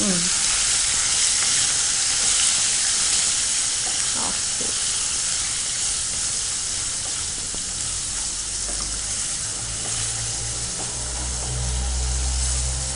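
Soaked chickpeas fry in a hot pan for a mango rice dish, a loud, steady sizzle and hiss with a few stirring clinks and no talk.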